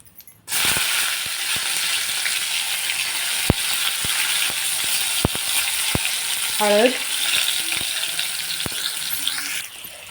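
Tomato drops into hot oil with cumin seeds and asafoetida, setting off an abrupt, loud, steady sizzle that holds throughout, with a few sharp clicks of a spoon against the pan.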